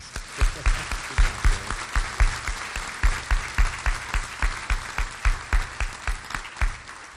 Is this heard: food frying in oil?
no